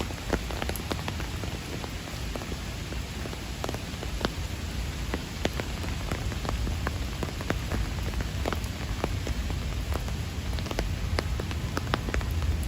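Heavy rain pours down on a Manhattan street at night near Central Park South and 59th Street in July, a steady dense hiss with scattered sharp droplet hits throughout and no voices.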